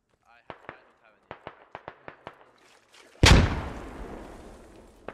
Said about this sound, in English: that grenade might have wounded them both